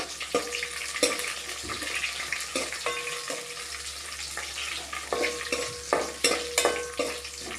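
Onion and vegetables frying in a pan with chilli powder, a dense close sizzle punctuated by frequent clattering spatula stirs and scrapes, with no voices.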